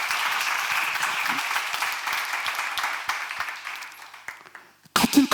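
A church congregation applauds during a sermon, a sustained dense wash of clapping that fades out near the end before a brief burst of renewed clapping.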